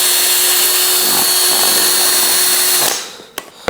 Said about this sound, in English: drill a hole through the bottom of the Gatorade bottle.